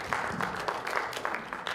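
Steady applause from a closing ceremony crowd, a continuous patter of clapping throughout, moderately loud and without voices over it.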